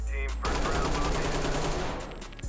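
Rapid automatic gunfire from the player's weapon in the tactical shooter Ready or Not, a dense loud burst of shots following a brief pause, with faint background voice.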